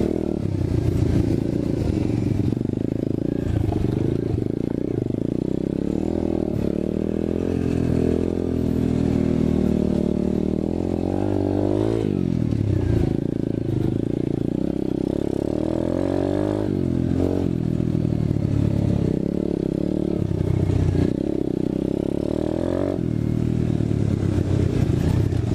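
A 2019 Apollo 125cc motorcycle revs repeatedly during wheelie attempts outdoors, the small engine rising and dropping in pitch through several throttle bursts with clattering and scraping mixed in.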